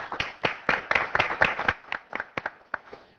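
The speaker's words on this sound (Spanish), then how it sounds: "Los recibimos con un aplauso." A small studio audience claps in welcome for two guests on a Spanish-language television program, a short burst of distinct, fairly sparse hand claps that thins out toward the end.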